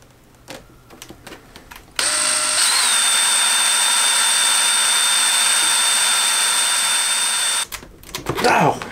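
A power drill drilling a fin on a high-power model rocket whines loudly and steadily for several seconds, close by, with brief voices and handling noises before and after.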